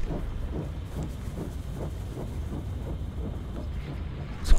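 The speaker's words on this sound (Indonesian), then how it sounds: "Seperti suara kereta berjalan" Rolling train from the horror video game DARQ: a steady low rumble with regular rhythmic pulses of wheels on track, faint hiss on top, continuous and moderately close, ending in a brief louder burst.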